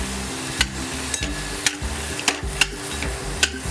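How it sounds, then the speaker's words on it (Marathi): Raw cowpeas being stirred and sautéed in masala in a pan, with a steady frying sizzle and sharp spoon scrapes and taps recurring about every half second to second, close and alone. "तर आता हे बघा असं मसाल्यामध्ये व्यवस्थित परतून घेऊया आपण."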